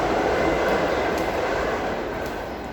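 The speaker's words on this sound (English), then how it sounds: "That's the train in the background." A train rumbling past in the background, a steady broad roar that holds for several seconds and fades slightly toward the end, with no voices.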